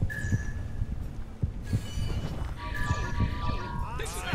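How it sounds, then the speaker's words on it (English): Heartbeat effect from the video game Assassin's Creed IV Black Flag, a regular series of deep thumps pulsing under game sounds and a talking voice, with tonal chimes and effects layered on top. "Heartbeats. You can tell because of the heartbeats."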